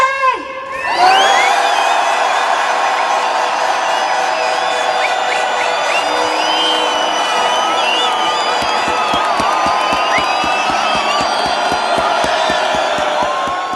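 A large crowd of farmers in London erupts into loud, sustained cheering and whooping after a brief count, with shouts and whistles rising over the roar and rhythmic clapping building toward the end.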